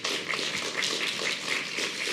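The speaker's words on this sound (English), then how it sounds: "But a round of applause for all of you." Sustained audience applause at a security innovation symposium, a dense, steady patter of many hands clapping at moderate loudness throughout, with no voices over it.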